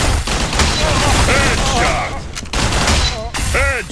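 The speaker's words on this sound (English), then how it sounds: "I have a Tommy gun." Tommy gun fire in the video game Gunz 2, dense rapid bursts of shots packed together with loud blasts, and a voice talking over part of it.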